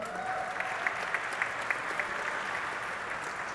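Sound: audience applause

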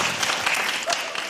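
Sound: applause

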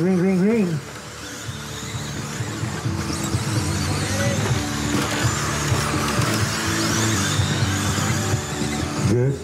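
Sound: street stock race cars starting the A main event

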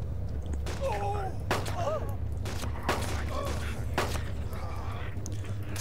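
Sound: gunshots in video game DayZ Mod

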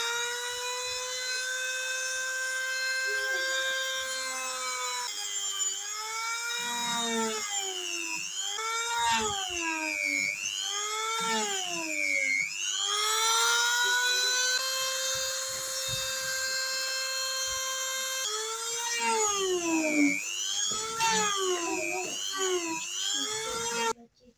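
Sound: angle grinder cutting holes in wooden ATR 42-500 model

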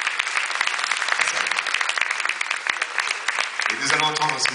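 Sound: audience applause at award ceremony

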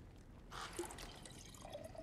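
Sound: liquid being poured, video game God of War Ragnarök

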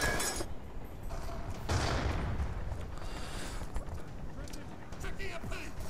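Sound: gunfire in video game Call of Duty: Black Ops 2

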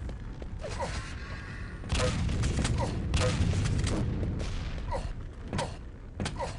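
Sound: gunfire in the video game Quake 3 Arena

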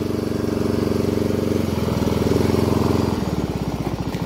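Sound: ride-on lawn mower engine running after starting

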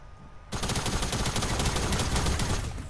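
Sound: gunfire in the video game Fortnite

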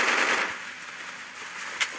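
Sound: shotgun gunfire in the video game Garena Free Fire

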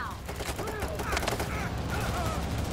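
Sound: overkill weapon gunfire in the video game Payday 3

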